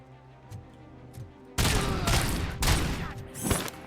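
Gunfire in the video game RoboCop: Rogue City, loud sustained bursts of shots roaring in after a quieter stretch, with dense overlapping blasts and booms close up.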